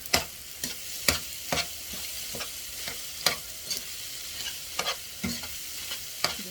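Rice stir-fried in a pan sizzles steadily beneath regular sharp scrapes and knocks of a utensil, about twelve strokes at an uneven rhythm, close and clear with no talk.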